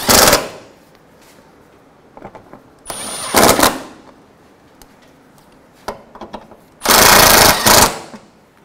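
Bolts holding an O2 sensor on a 2012-2016 Subaru Impreza are run down with a power tool in three loud, rattling bursts, the longest near the end, with clinks and handling noise between them, close to the mic.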